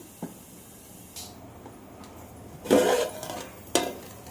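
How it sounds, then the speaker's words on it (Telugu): A metal lid is set back onto a pot of spiced fish curry, a short clatter with a scrape, among soft kitchen knocks and a sizzling hiss. "మళ్ళీ మూత పెడుతున్నాను"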